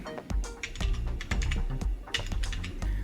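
Rapid keystrokes on a computer keyboard as a password is entered, a steady run of close, crisp clicks and taps with a few heavier key presses, and no voices.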